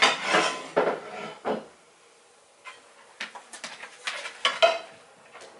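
A pan is pulled from a kitchen storage spot, giving a few clattering metal knocks and scrapes with quieter handling clicks after a short pause, close and moderately loud.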